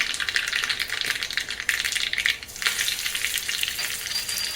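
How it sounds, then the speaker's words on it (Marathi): Mustard seeds and curry leaves crackle and spit in hot oil, a loud, busy run of sharp pops and sizzling bursts close by. "अर्धा चमचा मोहरी घेतलेली आहे मोहरी चांगली तडतडून द्यायची त्यानंतर कडीपत्त्याची पानं टाकायची"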